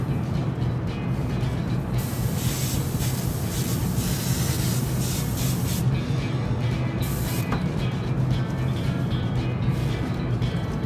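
A model-ship airbrush or paint sprayer hisses continuously through its nozzle, a loud, close, unbroken spray with slight flickers in intensity throughout.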